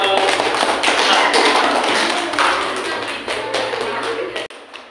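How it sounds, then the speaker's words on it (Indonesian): A classroom of students applauding a presenting group during a lesson, a dense burst of clapping that stays loud for several seconds, then thins and stops abruptly near the end. "Tepuk tangan untuk kelompok."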